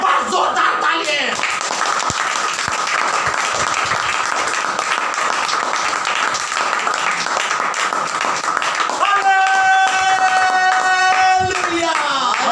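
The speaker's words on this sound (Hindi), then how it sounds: "एक बार जोरदार तालियां।" A church congregation breaks into loud, dense applause that fills the room at close range and holds steady for several seconds. Sustained tonal music rises over the clapping toward the end.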